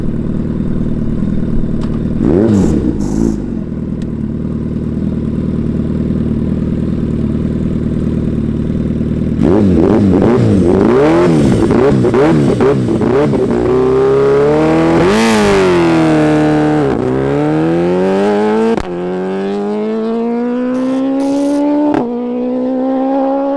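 A 370hp TTS SuperBusa Hayabusa motorcycle on a wet drag strip under hard acceleration: a loud engine idles, blips sharply, then screams upward through rising revs with several abrupt gear-shift drops before it fades.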